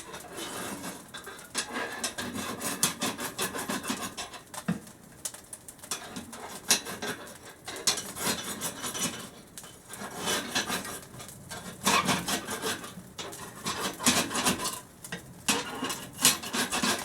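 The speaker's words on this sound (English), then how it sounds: "I'll take my little angle iron here, get between the grates." An angle iron scrapes and rasps between the grates of a Penn coal stove, a repeated gritty metal rubbing in uneven strokes, close and fairly loud, with no talking.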